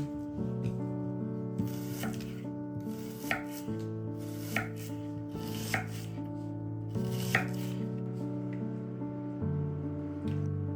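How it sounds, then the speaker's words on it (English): A knife chopping onion on a cutting board, a handful of crisp, evenly spaced knocks over steady background music, close and distinct. "Auch die Zwiebel hacken."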